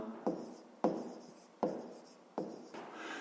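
A pen or chalk writes out a school maths solution in quick strokes, four scratchy bursts, each starting sharply and trailing off, with a lighter fifth stroke at the end. The sound is close and fairly quiet, with no talking.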